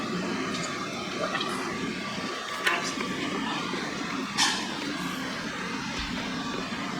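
Murky water drains out of a 55-gallon planted aquarium in a steady, moderately loud gushing stream, with a couple of brief splashes and faint talk in the background.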